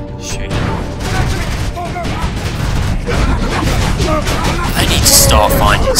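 Gunfire and booming blasts in a Warhammer 40k Space Marine video game, dense continuous shooting with bursts and explosions layered over a steady loud roar, with a voice talking over the action.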